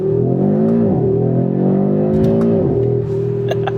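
Audi RS3 engine revving loudly and steadily while driving, the pitch sweeping up and down through the gears, close and continuous with no talk.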